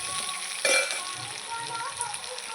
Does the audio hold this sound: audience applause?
no